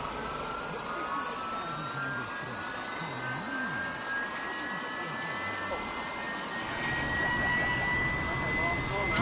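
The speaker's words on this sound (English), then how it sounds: "The turbofan can be thought of as a high-tech propeller inside of a duct" A turbofan jet engine drones steadily with a high whining tone and broad rumble, while someone talks over it throughout.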